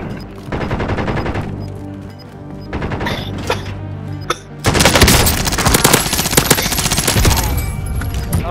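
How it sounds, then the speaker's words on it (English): Rapid video game gunfire crackles in dense automatic bursts throughout, growing louder and heavier in the second half with sharp reports stacked over a constant roar of shots. "Receiving hostile fire"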